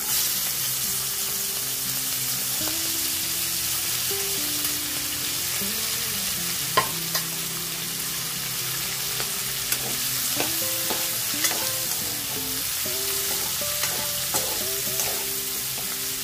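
Onions, green chillies and curry leaves fry with a steady sizzle in a pan, with occasional scrapes and clinks of a spoon stirring them, loud and close, with no talk.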